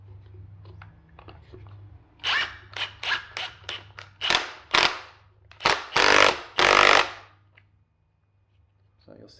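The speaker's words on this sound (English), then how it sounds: "So you'll see that I'm able to kind of impact that down there pretty well" Impact gun driving a strut nut down, with no 17mm hex socket on hand, during spring and strut installation on a Mini F56: about nine short, loud rattling bursts of hammering in quick succession, close by, with a low hum underneath.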